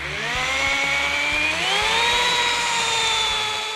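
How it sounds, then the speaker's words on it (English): Power buffer working over the paint of a Cuda, a steady high whine that rises slightly in pitch partway through, loud and continuous with no talk. "I'm gonna get back to buffing now"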